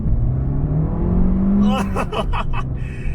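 A turbocharged Abarth 595 hatchback with a manual gearbox drives up a road hump, its engine humming steadily and rising in pitch before a few rough bursts of road and body noise, heard from inside the car.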